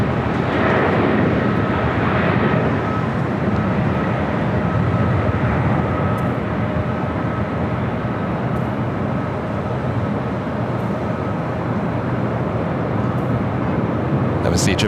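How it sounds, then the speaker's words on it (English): A Japan Airlines Boeing Dreamliner takes off from Los Angeles LAX bound for Tokyo Narita, its loud, continuous jet engine roar filling the air, with people talking over it. "That was the Japan Airlines Dreamliner and the One World delivery heading back to Tokyo Narita"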